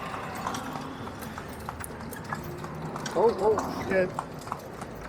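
Horse hooves clip-clop steadily on a downtown street in Nassau, Bahamas, during a carriage ride, an even rhythmic clatter under people talking and background street noise.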